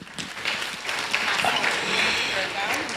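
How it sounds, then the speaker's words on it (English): An audience at a community college graduation ceremony breaks into dense, sustained applause, rising quickly and holding steady, with voices faintly mixed in. "Please give her a round of applause."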